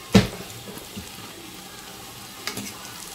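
Puff puff dough frying in hot oil in a small frying pot, a soft steady sizzle with a sharp crackle at the start and another burst near the end as the pieces are turned, close and fairly quiet.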